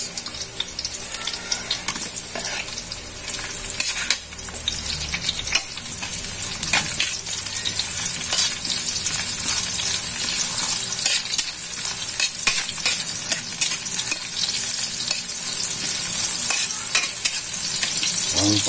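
Onions sautéing in a pan for sinigang sa miso with talakitok fish: a loud, steady, close sizzle runs throughout, broken by occasional stirring scrapes, with no talking.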